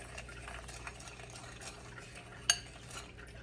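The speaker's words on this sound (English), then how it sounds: "Just mix that all together." A spoon mixing a dry spice rub with oregano for a Boston butt, soft close scraping and rustling under a faint background hum, with one sharp clink near the end.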